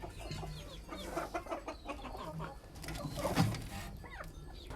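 Hens and a rooster cluck and coo in a farmyard coop where a hen sits brooding on eggs, with several overlapping bird calls up close and a faint voice in the background.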